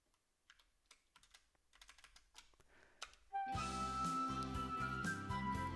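Rapid mouse and keyboard clicks from someone playing a visual novel, quiet and irregular, then abruptly covered by loud game music starting partway through.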